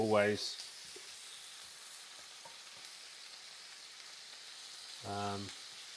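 Soft continuous sizzle and hiss of cabbage cooking in butter in a pan, steady and faint, with brief voice-like tones at the start and near the end.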